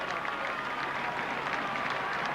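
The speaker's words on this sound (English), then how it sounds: "I hope there'll be a sympathetic round of applause then for..." Crowd applause at a Tour de France stage finish in 1996, steady and dense with no breaks, sounding like a roadside crowd clapping for a cyclist rolling in.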